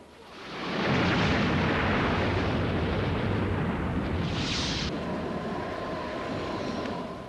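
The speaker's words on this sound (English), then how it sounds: "A tornado cannon at the Wind Engineering Research Center at Texas Tech University propels a 15-pound 2x4 missile" A tornado cannon at a wind engineering research center fires a 15-pound wooden 2x4 missile: a powerful roaring blast of compressed air that swells fast and holds loud and steady for several seconds, with a sharp hiss partway through.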